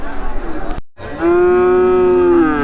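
A cow lets out a single long, loud moo close by at Hazratpur cattle market in Bangladesh, after a short burst of background noise and a brief silence.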